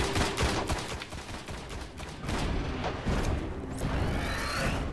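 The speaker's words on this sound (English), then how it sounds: "Oh, he's got machine guns on his front." A spider tank fires its front-mounted machine guns in the Destiny video game, producing dense, continuous rapid gunfire mixed with mechanical game noise, loud throughout.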